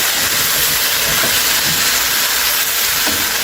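Corn flour and soy sauce hit a hot pan of meat stir fry and set off a loud, continuous, hissing sizzle that stays steady and close the whole time, with no voices.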